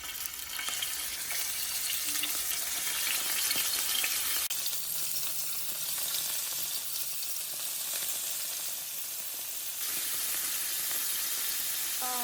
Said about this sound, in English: And now it's a time to fry these shrimps